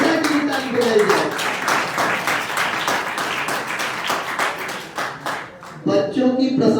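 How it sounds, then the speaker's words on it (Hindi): An audience at a Sharda competition prize-giving ceremony claps in a quick, steady burst of applause lasting several seconds, followed by a brief spoken voice at the end. "इसलिए हम दंडता की ताली बजाई जाए"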